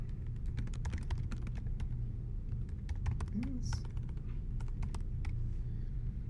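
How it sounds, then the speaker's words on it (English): Someone types on a computer keyboard while entering text in Boardmaker software, a quick irregular run of sharp clicking keystrokes over a low background hum. "so let's start typing here"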